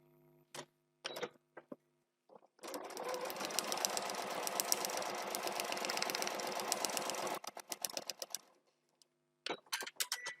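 A sewing machine stitches a quilt seam through the seam allowance, starting with a few short bursts, then running in a steady, rapid, close mechanical rattle for several seconds before tapering into brief stops and starts.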